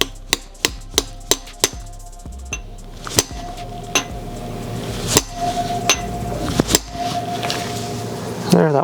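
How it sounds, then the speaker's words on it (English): Sharp metal-on-metal hammer blows tap oil restrictor plugs flush into an RB26 engine block deck, several quick strikes at first, then slower spaced hits with faint clinks between them. "you basically just hammer them until they're flush with the deck surface"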